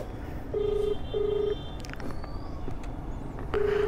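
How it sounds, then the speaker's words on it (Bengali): A call rings out to a lost mobile phone: a steady electronic ringback tone repeats in short bursts of about half a second, over a busy outdoor background of traffic noise. "রিং তো হচ্ছে ফোন"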